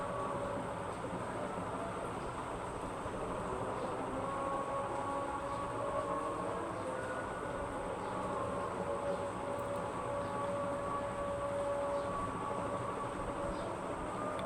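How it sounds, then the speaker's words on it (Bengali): A metro train hums and rumbles steadily at a station, with a faint whining electric tone rising and holding throughout; no voices. "ওঠার সাথে সাথে একটা ট্রেন এসে এখানে আর কি থামলো মতিঝিলের দিক যাচ্ছে"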